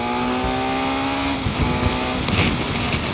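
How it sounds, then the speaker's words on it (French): A loud BMW motorcycle engine, an F900XR or S1000XR, roars continuously nearby as it accelerates, its pitch holding high before dropping slightly as it revs, with no talking. "Le moteur est dingue, il est furieux par rapport à la moto."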